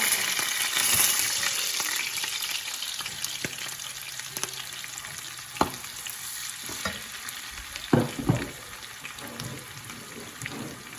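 Onion added to a pan of frying dried kapenta with tomatoes, giving a steady hissing sizzle throughout with a few scattered clinks and a louder stirring scrape near the end.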